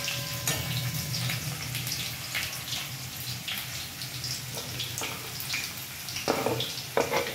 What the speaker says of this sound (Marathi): लसूण चांगल्या प्रकारे आपल्याला मिक्स करायचं आहे, ब्राऊन होईपर्यंत आपल्याला लसूण ठेवायचं आहे त्यात।